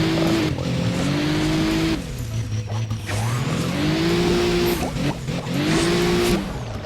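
Muscle car engine in the video game Hill Climb Racing, a loud continuous drone whose pitch climbs and falls as the car accelerates and eases off in waves, with tire noise alongside.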